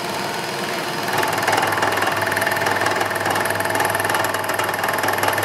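A milling machine cuts across a clamped metal block while squaring it, a steady, dense mechanical drone with a rough grinding edge that grows louder after the first second and holds through the cut. No one talks.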